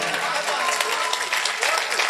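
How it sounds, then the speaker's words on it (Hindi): A crowd applauds at an Urdu poetry mushaira in Dunyapur, loud sustained clapping filling the whole moment, with a few voices faintly mixed in beneath it. "दोस्तों एक बार जोरदार ताली होनी चाहिए।"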